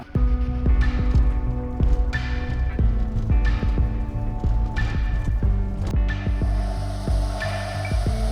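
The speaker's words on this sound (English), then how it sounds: "Once the machine communicates with the collar, this sound will change to a kind of a heartbeat" On safari, a wildlife tracking receiver locked onto an animal collar gives a steady low hum with a regular throbbing pulse like a heartbeat, close and fairly quiet, with no talk over it.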